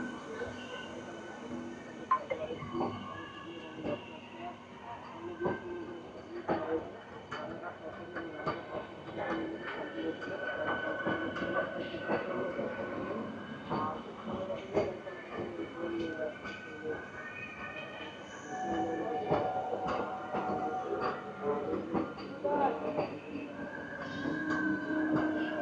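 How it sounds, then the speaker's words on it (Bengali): An air-conditioned EMU train rolls into Ranaghat station with a steady rail rumble and faint clicking wheels. The sound builds gently in waves, stays fairly distant and moderate, and comes with a low murmur of background voices. "রানাঘাট স্টেশনে ঢুকে পড়লো এসি ইএমইউটা।"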